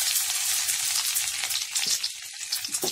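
Chopped ginger frying in hot oil with tempering seeds for rava upma, a close, continuous sizzle with light crackles and soft stirring.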